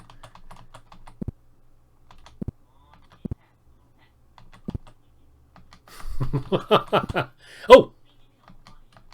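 Keyboard keys tapped one at a time at a slow, irregular pace, crisp and close in a quiet room while a Dungeons & Dragons computer game is played, followed by a burst of speech and an exclamation.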